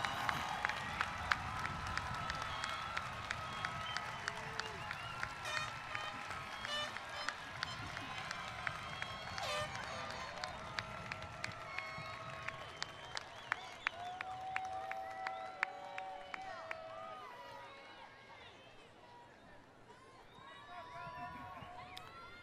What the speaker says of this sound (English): Give them a round of well-deserved applause.